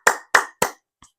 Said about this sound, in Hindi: ये जैसे ताली बजाना,